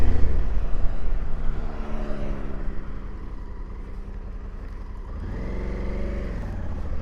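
A Honda Africa Twin motorcycle rides on a highway in gravel mode, its engine a steady low drone with rising and falling harmonic pitch as it shifts, wind noise mixed in, no talk.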